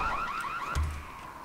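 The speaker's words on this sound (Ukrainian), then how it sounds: "Добана сигналізація." A car alarm from the video game Dying Light wails in repeating rising tones, loud and close, over a short stretch without talk.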